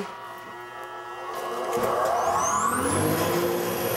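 A brand-new Delta dust collection system on a workshop sandblaster starts up and runs as a steady whirring roar that swells louder after a moment, with faint rising whine tones above it.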